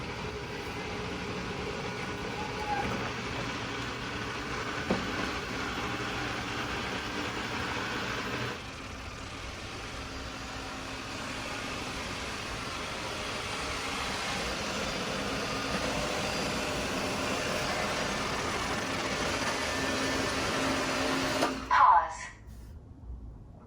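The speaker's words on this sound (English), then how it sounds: "I've got the robot vacuum" A robot vacuum cleaner running through a corridor at home, a steady low whirring and brushing hum that continues for a long stretch before a brief clatter near the end.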